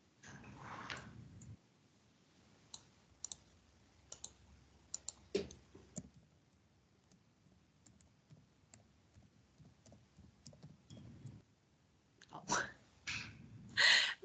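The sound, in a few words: typing on a computer keyboard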